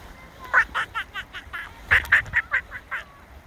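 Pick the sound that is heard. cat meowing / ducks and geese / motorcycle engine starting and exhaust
ducks and geese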